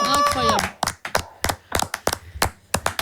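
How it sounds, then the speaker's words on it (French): Audience clapping for a performer named Bertrand on a French radio-show stage, bursts of hand claps after a sung note, close and fairly loud, mixed with cheering voices and talk. "on peut l'applaudir encore une fois"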